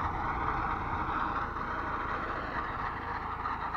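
A tractor running a drum mower cuts a field of vetch, its engine and cutter making a steady, continuous mechanical roar with no pauses, heard from a moderate distance.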